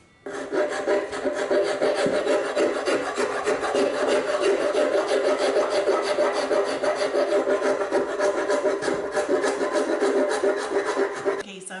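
Steady, continuous rasping of a file or rasp working down the thick wooden fingerboard of an 1800s violin during restoration, close and loud for the whole stretch with no talk over it.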